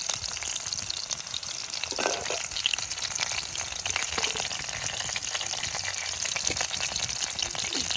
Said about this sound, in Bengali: জিরাটা দিয়ে দেবো।